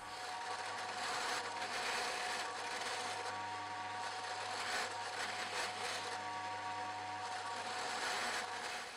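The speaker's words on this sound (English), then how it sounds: "I've gone over it again and again with different grades of sandpaper" Sandpaper rubs over the wooden neck of a homemade cigar box guitar in a workshop, a steady, close rasping scrub that runs continuously without pauses.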